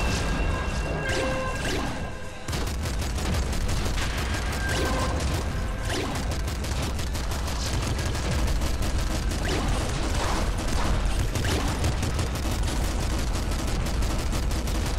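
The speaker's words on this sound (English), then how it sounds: "heavy machine gun." Heavy machine gun firing in the Nuclear Throne video game, a loud continuous rapid stream of gunshots with crashing impacts throughout.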